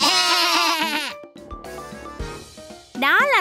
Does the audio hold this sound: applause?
no